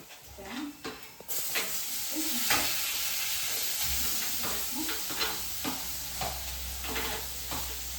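Tomatoes frying in a pan for macaroni pasta, a continuous close sizzle with scattered stirring scrapes and clinks of a utensil against the pan.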